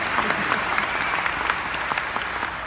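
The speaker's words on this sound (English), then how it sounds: "You guys are very good on the applause." Loud, dense audience applause fills the hall at a live book tour talk, many hands clapping in a steady roar with a few sharper claps and whoops standing out.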